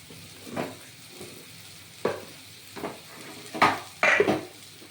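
Spice paste for a bottle gourd kofta curry frying in oil in a pan, a steady low sizzle broken by several distinct spatula scrapes and stirs that grow louder toward the end; no talking.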